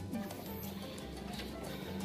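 Racing pigeons coo softly in their loft after returning from a training flight, low burbling calls repeating under faint background noise.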